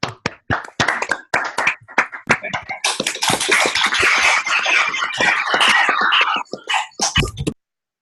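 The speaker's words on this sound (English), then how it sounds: "If you want to unmute yourself to clap." Online audience at a mathematics lecture clapping through unmuted microphones: a few scattered claps at first, swelling into denser overlapping clapping, then thinning to a last handful of claps before stopping.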